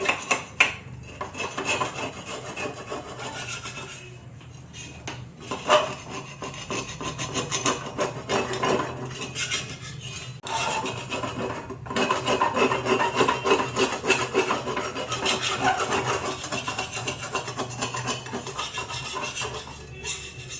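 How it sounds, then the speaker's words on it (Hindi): A knife rasps steadily along the side of an old tawa griddle, scraping off caked grime in continuous, close, loud strokes with brief pauses and no talking. "इस तरीके से इसके साइड को रगड़ते जाएं, सारा कचरा निकल जाएगा, तवा बहुत ही अच्छे से साफ हो जाएगा।"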